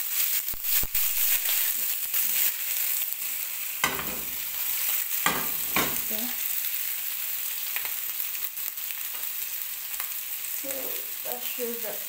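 Meatballs frying in a pan, a continuous hissing sizzle broken by intermittent scraping and stirring knocks as they are moved around, close and moderately loud, with no talk.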